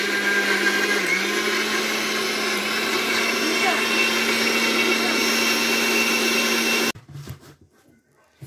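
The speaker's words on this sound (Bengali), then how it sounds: "তো এখন আমি এই যে ব্লেন্ডারও রেডি," A blender whirs loud and steady while making watermelon, apple and grape juice, running close for about seven seconds before cutting off, followed by a few faint knocks.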